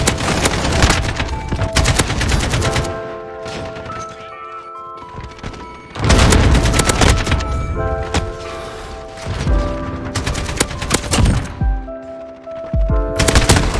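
Long automatic bursts from an AK rifle with maximum recoil in a video game: loud rapid rattling volleys in three main stretches, with brief gaps of quieter game ambience between them.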